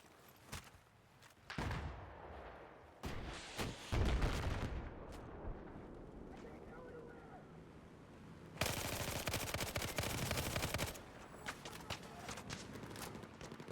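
Suppressive automatic gunfire in Battlefield 4 multiplayer: loud, dense bursts of rapid shots, a long sustained stretch near the end, with quieter gaps and scattered distant shots between them.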